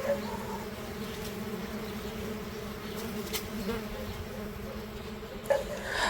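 Mason bees (Osmia) buzzing around nest houses in a garden, a continuous soft hum of many wings at moderate distance with a few closer passes, no talking.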